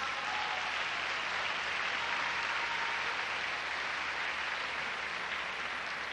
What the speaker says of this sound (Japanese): 両選手に温かな拍手をお願いします。